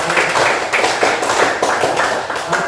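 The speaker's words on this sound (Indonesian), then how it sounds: "memberikan tepuk tangan memberikan kepada" Classroom audience of students clapping for a student group after a presentation on wall decorations, a steady dense patter of many hands throughout, fairly loud and close with no voices.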